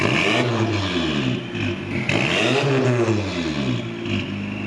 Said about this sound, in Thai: มีเสียงแบบท่อตรงลั่น